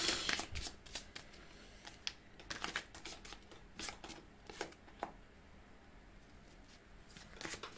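Tarot cards shuffled and drawn by hand for a reading, with a run of crisp riffling flicks and soft slaps scattered across the stretch, close and moderately quiet with no talking.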